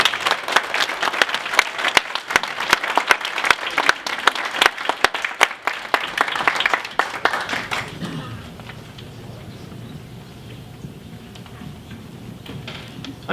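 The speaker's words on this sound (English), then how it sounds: "Let's give them a big round of applause." Audience applause at a community gathering for a coffeehouse closing, with individual sharp claps standing out close by. The clapping runs strongly for about eight seconds, then drops away to quiet room tone.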